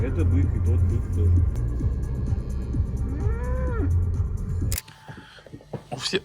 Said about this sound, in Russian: Это бык и тот бык тоже.